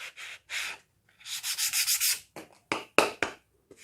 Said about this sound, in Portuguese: Também pode dobrar a lixa assim para dar um acabamento